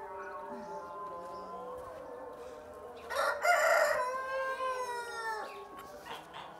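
Farmyard chickens cluck softly while a rooster crows loudly up close with a long cock-a-doodle-doo in the middle, the hens continuing afterward.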